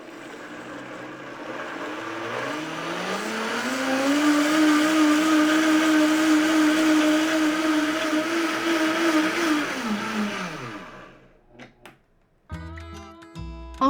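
A blender whirs through vegan ranch dressing ingredients, its motor ramping up from slow to a steady high-pitched whine, holding, then winding down and stopping, followed by a few clinks.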